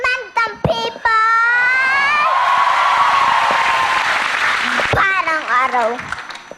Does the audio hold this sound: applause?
yes